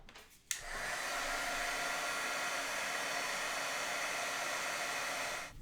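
An electric heat tool for heat-setting clear embossing powder switches on with a click and blows a steady, loud whooshing hiss for several seconds before cutting off, with no voices.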